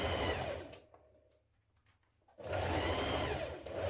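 A sewing machine stitches a dress's underarm seam with a 1 cm seam allowance, first in a fast, close, rattling burst, then a short pause with small handling clicks, then a second sustained run.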